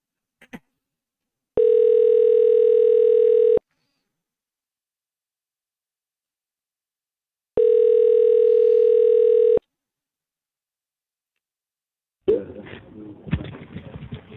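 Outgoing telephone ringback tone for a call placed to a phone number: two long steady two-second ring bursts separated by silence, followed by a line clicking open with faint sound.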